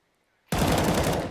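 Sudden loud burst of rapid automatic rifle fire from M4 and AK guns in a Counter-Strike match, starting after a brief silence and holding as a dense continuous volley.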